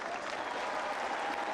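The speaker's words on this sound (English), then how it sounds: "You can see her fellow competitors cheering her on." Fellow competitors and spectators at a women's pole vault final at the 2013 Summer Universiade in Kazan applaud and cheer. The applause is steady and dense, like a distant crowd, with some faint voices mixed in.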